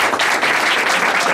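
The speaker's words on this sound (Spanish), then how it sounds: "Un aplauso." An audience bursts into loud, close applause, many hands clapping in a dense, steady burst that fills the short moment alone.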